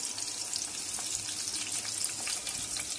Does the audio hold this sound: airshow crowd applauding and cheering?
no